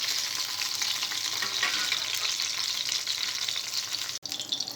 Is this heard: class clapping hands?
no